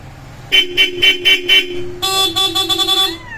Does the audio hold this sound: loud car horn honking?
yes